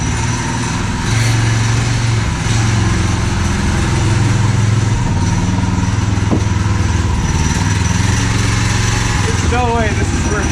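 A Predator 212 engine drives a homemade pit cart, sputtering and revving through a burnout. The small engine's buzzy drone runs loud and close throughout, with excited voices talking over it.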